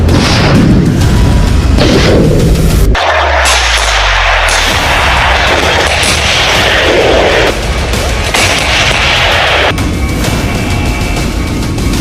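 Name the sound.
advanced tanks firing rounds and explosions in military exercise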